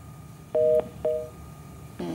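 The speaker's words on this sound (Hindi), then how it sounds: "फोन लाइन शायद डिस्कनेक्ट हुई" A telephone line on a live call-in broadcast gives two short, clear electronic beeps, followed by a brief buzzy tone at the end, with no talk over it.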